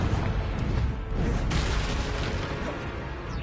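A Confringo fire spell blast from the game Hogwarts Legacy, a steady booming roar of fiery impacts with one sharp burst partway through, loud and dense with no voices over it.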